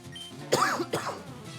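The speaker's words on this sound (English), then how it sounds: "I can't shake this cough." A person coughs nearby, two short, harsh bursts in quick succession that sound like throat clearing, with no talk around them.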